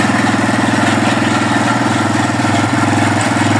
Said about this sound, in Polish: Silniczek nie klepocze.